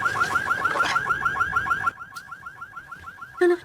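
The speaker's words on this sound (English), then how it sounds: "that sounds like my car alarm" A car alarm whoops in a rapid, repeating warble, loud at first, then continuing more faintly after a sudden drop, with a brief burst at the end.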